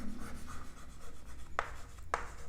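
Pen writing on paper, faint soft scratching strokes with two sharper taps near the end, close and quiet with no talk.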